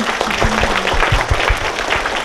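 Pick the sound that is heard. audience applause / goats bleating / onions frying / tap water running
audience applause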